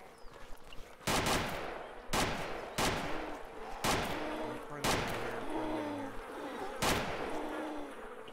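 AK rifle fire in the DayZ video game: about seven loud, sharp single shots spaced irregularly over several seconds, with faint background noise between them.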